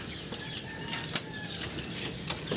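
Soft, quick wingbeats flutter in short bursts as racing pigeons take off, faint clapping flaps against a quiet outdoor background.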